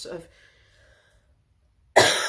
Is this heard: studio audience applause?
no